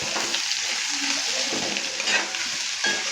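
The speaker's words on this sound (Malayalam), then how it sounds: "സവാള നന്നായിട്ട് ഇതേപോലെ ഒന്ന് വഴറ്റിയെടുക്കണം." Chopped onions, two medium ones cut small, sizzle steadily in a hot pan for an egg roast, with a continuous frying hiss and occasional soft stirring scrapes close by.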